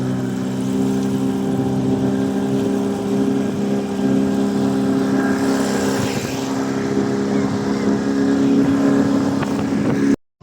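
A fishing boat's engine runs steadily out at sea, a loud continuous droning hum with strong low harmonics that holds at the same level throughout before cutting off abruptly at the very end.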